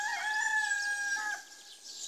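A rooster crows in a garden among espaliered pear trees, one sustained, fairly close call that fades at the end with no talk over it.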